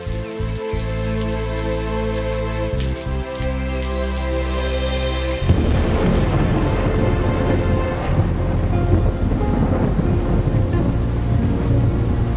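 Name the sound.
rain and thunder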